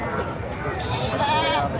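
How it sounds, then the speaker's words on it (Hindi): A Barbari goat bleats at a busy goat market, one wavering cry rising over a steady crowd murmur and people talking nearby. "दो दांत बकरा है।"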